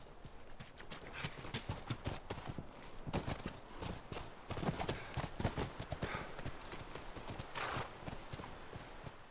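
Horse hooves clip-clop steadily in The Last of Us, a dense, continuous rhythm of hoofbeats close by with no talk over them.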